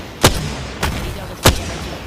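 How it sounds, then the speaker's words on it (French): Explosions from the video game Apex Legends, including a frag grenade: three sharp, loud blasts spaced about half a second apart over low background game noise. "Grenade frag lancée."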